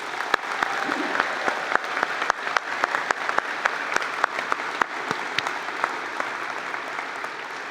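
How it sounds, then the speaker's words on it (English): Steady applause from a convocation audience for university leaders, a dense wash of clapping with sharper individual claps standing out, sustained and even throughout at moderate distance. "Please join me in giving these leaders a round of applause"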